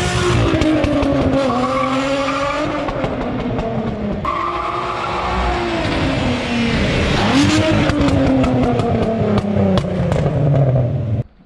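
VW Golf 2 with a 3.6-litre R36 engine making 340 hp, revving hard with rising and falling engine pitch and squealing tires, loud and close throughout with no talk.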